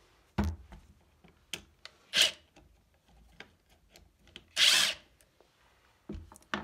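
Inside the plunge base of a Bosch 1617 router, a driver tightens a large Torx screw, giving two short, sharp whirring bursts between quieter clicks and handling knocks.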